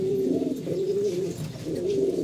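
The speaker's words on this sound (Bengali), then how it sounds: "গম গম গম করে ডাকে। ডাকতেছে।" Two hen pigeons give low, throaty coos that swell and fall in repeated phrases, close and continuous with no voices.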